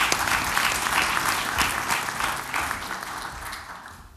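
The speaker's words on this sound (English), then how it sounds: "Please give him a very warm round of applause." Steady applause from an audience at the South Africa-Italy Indaba 2017 business conference, a dense wash of clapping that holds strong and then gradually thins out toward the end.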